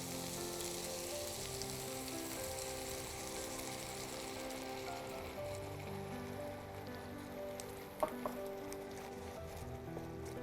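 Red wine poured into a hot pan over a colorful mix for a spiced cranberry chicken shepherd's pie, sizzling and hissing steadily and quietly throughout, with a brief clatter near the end.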